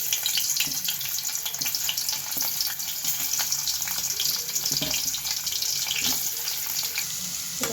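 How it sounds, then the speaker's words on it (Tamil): Cut paneer cubes frying in oil in a kadai give a loud, steady, close sizzling hiss that carries on evenly throughout with brief crackles. "இப்போ நான் கட் பண்ணியிருக்கு வச்சுருக்க பன்னீரை வந்து கடாயில் போட்டுக்கிறேன்"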